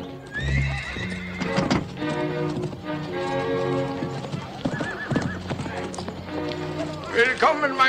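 Horse hooves clip-clop alongside a horse's whinny at a stud farm, with music and voices layered over them throughout, in a German James Bond Goldfinger audio drama.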